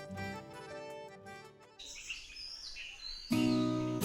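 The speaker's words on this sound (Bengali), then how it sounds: "পাখির ডাকে ঘুম ভাঙছে" Faint bird chirps and tweets at dawn at Murguma in Purulia, scattered and soft beside other quiet tonal sounds.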